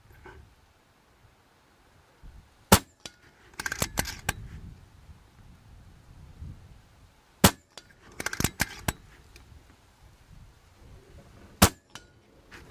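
A JTS Airacuda air rifle fitted with two silencers fires at a 50-metre target, several sharp muffled cracks spaced out, with quieter clicks and handling noises between shots, close and otherwise quiet.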